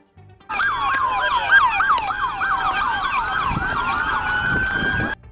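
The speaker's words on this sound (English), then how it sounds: "cruisers trailed closely behind Broaddus's car, sirens wailing and lights flashing" Police car sirens during a chase through northwest Oklahoma City neighborhoods, several overlapping wails and yelps sweeping up and down, starting abruptly and holding loud and steady over faint road noise.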